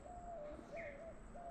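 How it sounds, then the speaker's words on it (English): Doves cooing in the woods along a trail, a soft repeated low call heard several times over steady outdoor ambience, fairly faint and without talk. "there are doves cooing all around us"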